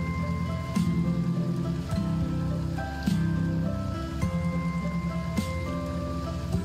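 Rain falls in the farming video game Farm Together 2, a continuous soft patter heard alongside layered game music tones.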